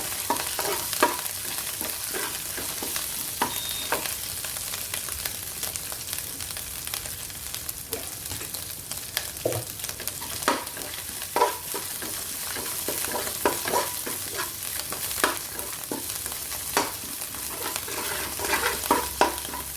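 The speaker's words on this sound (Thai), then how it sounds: "เราก็จะผัดพริกแกงเราให้หอมก่อนนะคะ" Curry paste stir-fries in a pan with a steady sizzle, broken by repeated scraping and stirring strokes of a utensil against the pan, close and alone.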